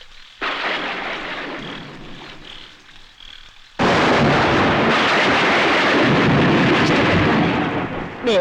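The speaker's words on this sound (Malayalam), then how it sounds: "മഴയുണ്ട്" Heavy rain falls in a thunderstorm with a dense, roaring wash of noise. Rumbling thunder swells, and the downpour grows abruptly louder partway through, then stays loud and constant.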